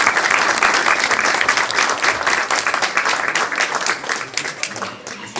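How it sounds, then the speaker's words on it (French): Guests at a medal and decoration ceremony with mayors present break into loud, dense applause of many hands, strong at first and gradually tapering toward the end. "donc je crois qu'on peut les applaudir déjà"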